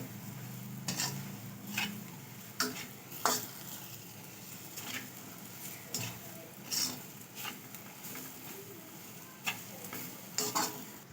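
Semolina roasts in ghee over low heat while a spoon stirs it, soft scraping with a faint sizzle and intermittent sharp taps against the pan, quiet and close with no voices.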